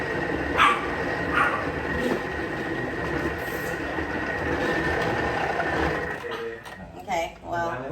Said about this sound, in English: No, no, no. No barking.